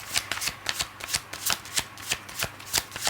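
Tarot cards being shuffled by hand in steady riffling bursts, about nine or ten crisp papery flutters spaced evenly, close and fairly quiet with no talking.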